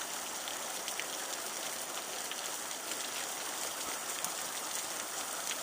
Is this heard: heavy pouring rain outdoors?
yes